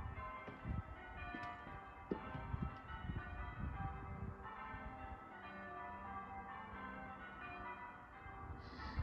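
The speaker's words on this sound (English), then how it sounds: "there's some church bells ringing" Church bells ring in a dense, continuous peal, distant and layered, under outdoor background noise.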